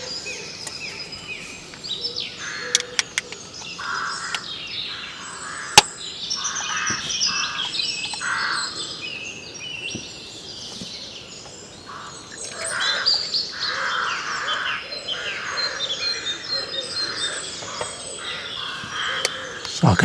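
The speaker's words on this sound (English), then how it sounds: "So I can hear a rook," Rooks cawing with song thrush and wood pigeons calling outdoors, a busy layered chorus of chirps, caws and coos at moderate distance, with a faint voice in the background.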